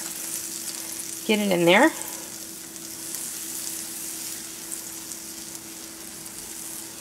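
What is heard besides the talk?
butter melting and sizzling in a pan on the stove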